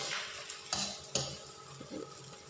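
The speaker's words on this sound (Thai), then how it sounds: "เดี๋ยวทอดไปสักพักเดี๋ยวก็สุกแล้ว" Beaten egg omelette frying flat in a pan, a soft steady sizzle with a few brief scrapes and stirs of a utensil against the pan, quiet and close.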